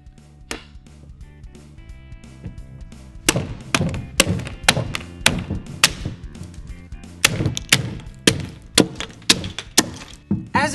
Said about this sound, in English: As you can see, the rock did a really nice job of crushing the toy.